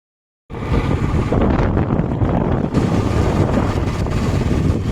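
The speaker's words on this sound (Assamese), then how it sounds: "ধুনীয়া বতাহ মাৰি আছে" Strong wind buffets the microphone of a camera held by a passenger on a moving motorbike on the way to a temple in Tezpur, a loud, steady roar that starts abruptly and continues without talk.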